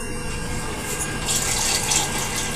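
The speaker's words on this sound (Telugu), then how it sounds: "ఇప్పుడు కొంచెం వాటర్ వేసుకోవాలండి" Water runs and splashes into a mixer jar as it is added to churned cream while making homemade ghee, a steady close pouring wash that swells slightly toward the end.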